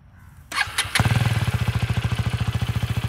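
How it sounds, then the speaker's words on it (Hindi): KTM Duke 250 motorcycle with an underbelly exhaust starts up, then settles into a steady, close, deep-toned idle with even rapid pulses. "अंडर बेली एग्जॉस्ट, तो एक बार एग्जॉस्ट सुना दो हमारे व्यूअर्स को"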